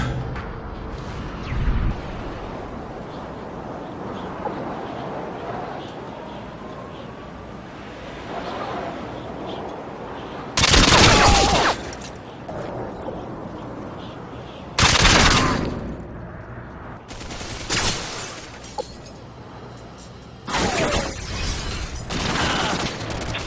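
Bursts of automatic gunfire from a first-person shooter game, several loud broadband volleys a second or two long spaced across the stretch, with quieter game ambience between them.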